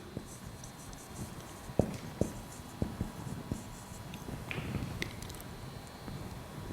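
Chalk or marker taps and scrapes on a classroom board during a physics lesson, a scattering of faint, sharp ticks at uneven intervals over a low background hum, with a short scratchy stroke near the end.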